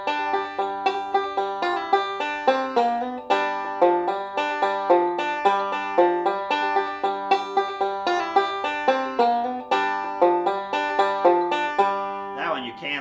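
A bluegrass banjo tag lick is picked solo, with bright, rapid rolling notes in a steady flowing rhythm that ends on a ringing, slide-inflected final chord, close and clear with no talking.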